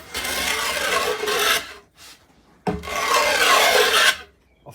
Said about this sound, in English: It's a cross-cut saw, so it should work well for the plywood.